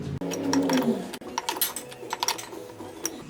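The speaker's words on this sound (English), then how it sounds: "we're going to use a skate tool to put this guy back on." A skate tool turns the kingpin nut on a skateboard truck during reassembly, giving a quick run of close, light ratcheting clicks and metal ticks in bursts, with a brief voice at the start.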